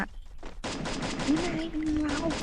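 Rapid automatic gunfire from the Free Fire battle game rattles on in a dense, steady stream, loud and near, after a brief quieter opening with a few shots.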